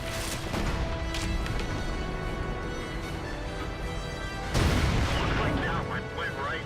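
Tank cannon fire from a World of Tanks battle, with an AUS-A firing at a Löwe and a StuG III shooting back: loud, continuous game combat noise with a sharp booming shot burst near the end.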